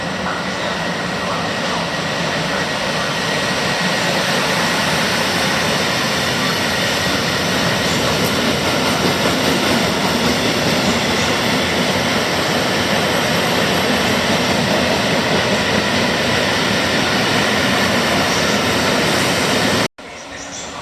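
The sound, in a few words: train passing through Milano Rogoredo station in the rain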